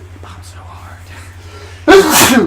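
A single loud, abrupt sneeze bursts out right after someone speaks briefly, close to the microphone.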